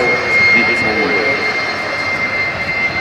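A jet engine on a jet-powered school bus at an air show in Al Ain, a loud steady roar with a high whine, under someone talking.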